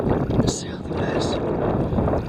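Steady wind buffets the microphone at sea on a boat trip near lobster traps, a constant broadband rush with low rumbling gusts lasting throughout and no quiet gaps.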